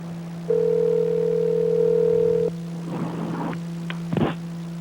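A telephone dial tone sounds while a call is being placed, holding steady for about two seconds before cutting off, followed by a few soft handling clicks and thumps.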